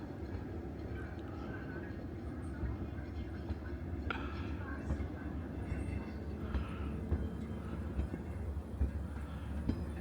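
A Lookout Mountain Incline Railway car in Chattanooga, Tennessee rumbles along its track outdoors, a low continuous rolling drone with faint clicks, while people talk nearby.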